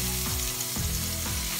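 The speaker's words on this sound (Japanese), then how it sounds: "ではオリーブオイルを敷いた鍋に玉ねぎ入れていきます。" Sliced onions hit hot olive oil in a pot and sizzle loudly and steadily, with a few rhythmic stirring scrapes repeating through the close, continuous frying hiss.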